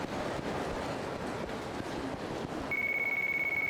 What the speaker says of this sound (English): Oh, another phone call.